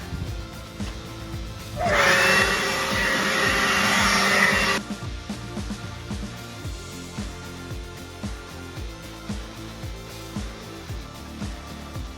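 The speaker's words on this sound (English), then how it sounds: "My blower and I blow all the inside out after I vacuum." A loud blast of air from a blower blowing out a Toyota FJ Cruiser's interior roars for about three seconds, then cuts off, leaving quieter background noise.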